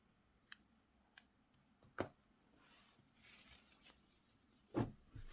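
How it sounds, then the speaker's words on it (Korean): Scissors snipping crochet yarn while making a crochet net bag: four crisp, separate cuts spaced a second or more apart, close and quiet, with faint handling rustle in between and no talking. "이 바탕색 실도 잘라주세요"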